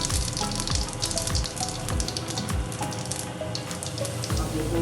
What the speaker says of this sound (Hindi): अब डालेंगे हम थोड़ी सी हींग।